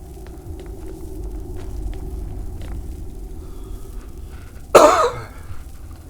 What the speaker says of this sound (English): almost fall out of the chair to cough as far away from the mic as possible